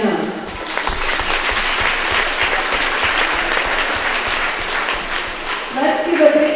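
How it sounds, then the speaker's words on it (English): Sustained applause from a crowd at a school event honoring a student, dense steady clapping filling the room for several seconds, with a voice starting to speak near the end. "Let's hear it for Brianna"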